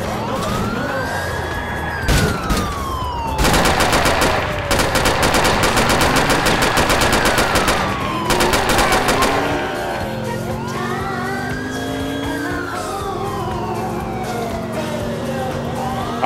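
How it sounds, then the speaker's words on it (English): Rapid bursts of automatic gunfire from a police shootout in the game LCPDFR, crackling in dense volleys over wailing police sirens that sweep up and down throughout. "Continuing to shoot."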